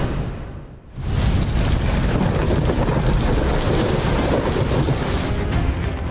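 Heavy monsoon rain pours during flooding in Maharashtra and Madhya Pradesh, with a low thunder rumble. After a brief quieter moment, the downpour settles into a dense, loud and constant wash.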